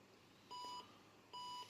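An IBM 8590 computer gives two short, clear electronic beeps about a second apart, alone in an otherwise quiet room.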